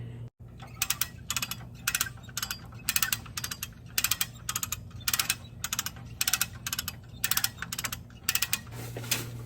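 Come-along ratchet cranked to pull a Jeep axle forward while changing a superflex bushing; a steady series of sharp metallic ratchet clicks in short bursts, close and distinct over a low background hum.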